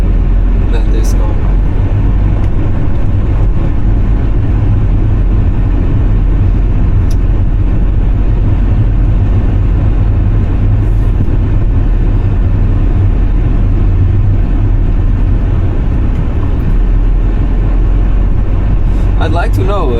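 Steady low rumble of a 1979 Mercedes W123 running on the road, its engine and road noise droning continuously throughout with a few faint knocks and clicks on top, and a person talking over it.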